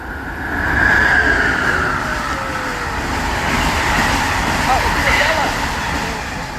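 Two trains, one of them an Amtrak Acela, rush past each other at Old Town Bowie as a steady, loud rail rumble with wheel and wind noise lasting throughout, while people talk over it.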